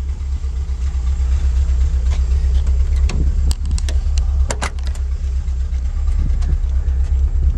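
A 1969 Ford Bronco with a 302 V8 idles steadily up close, a deep constant rumble with a few light clicks and knocks over it, no voices.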